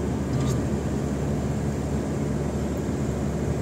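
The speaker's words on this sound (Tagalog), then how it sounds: "aeroplano oh" An airplane flies overhead along a road near Jeddah, a loud, continuous broadband roar that stays steady throughout.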